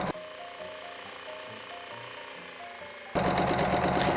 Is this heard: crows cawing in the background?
no